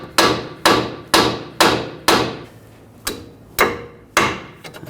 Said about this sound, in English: I'm just going to use a hammer. Just give it a tap.